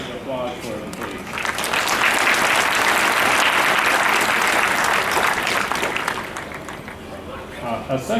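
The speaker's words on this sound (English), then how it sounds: "A round of applause for them, please." An audience at a university economics department graduation ceremony claps for award winners, the applause swelling to a full, loud roar in the middle and fading back down, with faint voices near the edges.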